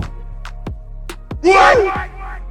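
A short synthetic yell sample from a V8 soundcard rises and falls after a few brief thumps and clicks, loud and isolated with no talking.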